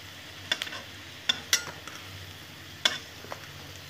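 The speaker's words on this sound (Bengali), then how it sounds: "দেখতে থাকো, ভেজে নিচ্ছি পকোড়াগুলো।" Cauliflower pakoras frying in oil give off a faint, soft sizzle, broken by a few sharp clinks and scrapes of stirring spaced through the quiet stretch.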